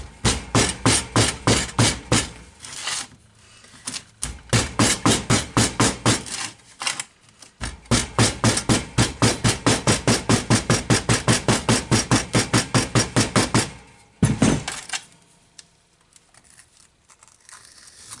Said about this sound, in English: So I'm going to grab some more sand. And we're just going to pack it in.